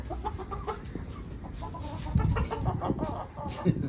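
Several chickens cluck and murmur nearby in a busy, overlapping chorus, with a few louder squawks toward the end.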